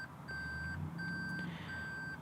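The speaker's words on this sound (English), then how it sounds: "in reverse you're going to definitely know it because of the beeping" A 2018 Toyota Prius Prime Advanced in reverse gear gives three evenly spaced electronic warning beeps, each about half a second long, clear over a low cabin hum.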